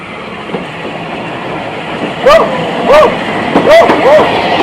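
A Battle of Britain class steam locomotive honouring RAF Manston rumbles past at steady volume while a beagle nearby lets out several short, sharp barks and yelps in quick succession.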